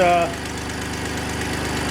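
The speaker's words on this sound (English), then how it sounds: "You can still hear that exhaust leak that goes away once it warms up a little bit" Idling engine with an exhaust leak, a steady low rumble carrying a faint ticking pulse throughout, with a brief higher tone at the start.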